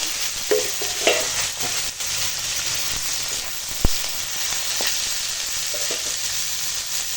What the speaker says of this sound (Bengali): এখানে আছে কালো জিরে আর শুকনো লঙ্কা ফোড়নে দিলাম